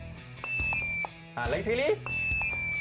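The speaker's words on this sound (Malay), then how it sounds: "Cuba bunyikan buzzer dulu." Quiz buzzers sounded at a school robotics club, several short electronic beeps and tones in a classroom, with a voice speaking briefly over them.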